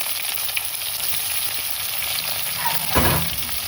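Chopped onions frying in a pan, a continuous close sizzle with a brief scrape or stir near the end, no voices.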